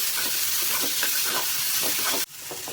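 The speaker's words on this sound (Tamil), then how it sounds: "ஒரு 2 நிமிஷம் குக் ஆகட்டும் காய்." Carrot and cabbage cook in a pan with a loud, steady steamy hiss throughout, briefly dipping near the end before resuming, close and without speech.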